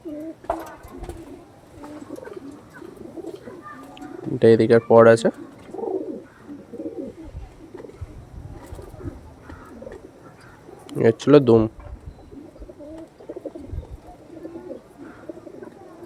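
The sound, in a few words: pigeon cooing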